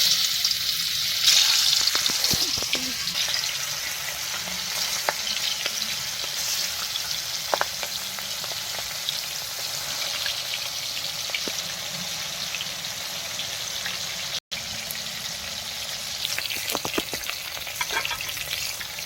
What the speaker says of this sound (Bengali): তেল গরম হয়ে গেছে মাছ দেবো